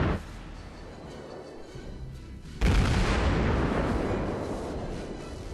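Warship main guns open fire in the World of Warships naval battle game: after a low rumbling lull, one sudden heavy boom strikes near the middle and a loud roaring blast decays slowly over the rest of the clip.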